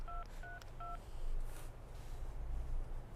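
Three short electronic telephone keypad tones beep in quick succession as a number is dialed, over a low, steady background hum with no talking.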